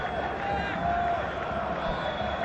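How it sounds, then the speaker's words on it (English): Zimbabwean supporters in a cricket stadium crowd keep up a steady, dense wash of chanting and singing, with crowd noise and talk layered over it throughout. "They're not giving up, Zimbabwean supporters. They're singing beautiful in the crowd."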